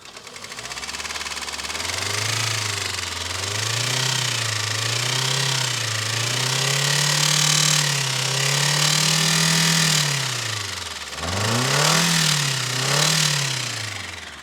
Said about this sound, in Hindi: जिस तरीके से आपने आवाज सुनी इस गाड़ी की, तो क्या कर रही है ये, टक टक टक टक टक टक टक टक कर रही है